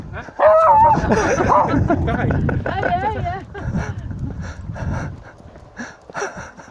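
A dog barks and yips repeatedly up close indoors, mixed with excited French chatter from a person talking over it.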